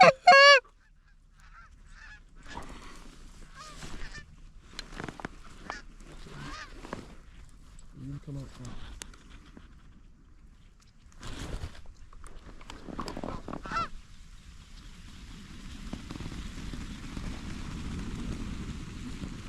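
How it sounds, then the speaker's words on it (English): Geese honking on the roost during an early-season goose hunt, scattered calls near and far with a sharp burst at the start, then fading into wind and rustling noise. "we got a couple more birds on the roost that we can hear"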